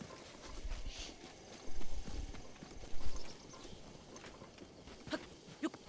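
Horse hooves clip-clop in The Legend of Zelda, Champions' Ballad DLC on Master Mode, a steady rhythmic trot under background game sound with a few louder hoof strikes standing out.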